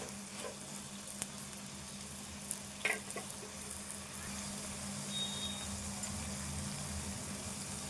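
Prawns sizzle gently in a pan while a utensil scrapes and stirs them now and then, with a voice faintly in the background.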